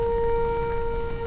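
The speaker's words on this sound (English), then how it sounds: "There goes the noon siren." A noon siren sounds in Minecraft, a steady sustained wail with two strong constant tones held for the whole stretch, loud and without talk.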